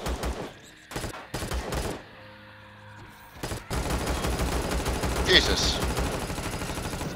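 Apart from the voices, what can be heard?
turret gunfire in the video game Empyrion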